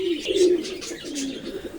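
Pet pigeons coo in a steady run of soft, rolling calls, close and fairly loud, with no talking over them.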